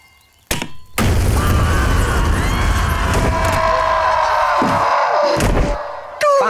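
A bomb blast in a Hindi comedy film scene: a sharp, loud boom bursts in after a near-silent start and rolls into a long, roaring rumble that fades out near the end.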